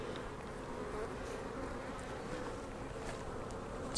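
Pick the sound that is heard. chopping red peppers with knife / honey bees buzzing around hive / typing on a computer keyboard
honey bees buzzing around hive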